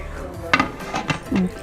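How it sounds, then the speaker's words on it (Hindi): Pressure cooker lid being closed after onion, garlic, mutton, salt and water go in, giving a few sharp metallic clinks and clatters of pot and lid at close range. "और प्रेशर कुकर को हम बंद कर देंगे।"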